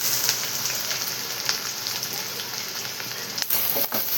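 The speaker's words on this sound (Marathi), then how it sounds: "इथं मी लसूण टाकून घेतलेलं आहे आणि 2 कांदे कट केलेले ते टाकलेले आहे." Garlic and two chopped onions fry in a kadhai, giving a steady soft sizzle and crackle with a few sharper pops and stirring scrapes near the end, close and fairly quiet.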